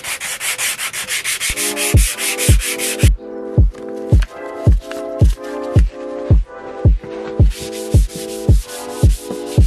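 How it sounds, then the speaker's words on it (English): Fine 800 grit sandpaper is rubbed by hand over the painted spoiler of an Astra GSI in steady, rhythmic back-and-forth strokes, close and scratchy, about a dozen strokes following an initial fast patch. "Gone over the spoiler a couple of times with some 800 grit."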